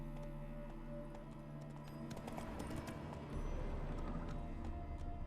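Hooves clip-clop steadily from a horse galloping across open ground in The Witcher 3, a rapid rhythmic patter over a wash of game ambience and music, with occasional snorts.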